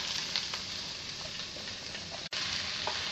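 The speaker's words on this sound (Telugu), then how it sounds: "కలుపుతూ 2 మినిట్స్ వేయించుకోవాలి" Shredded cabbage fries in a pan with turmeric, ginger-garlic paste and oil, producing a steady close sizzle with scattered pops and stirring scrapes, broken by one abrupt instant of silence near the end.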